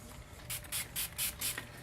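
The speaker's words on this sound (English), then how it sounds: "take a little spray bottle, and then just wash or spray the flowers or the scallops" A small spray bottle mists water onto paper scallop pieces in five quick hissing bursts, close and evenly spaced, with brief quiet gaps between them.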